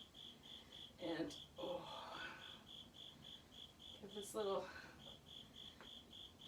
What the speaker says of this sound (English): Or cricket, whatever it is.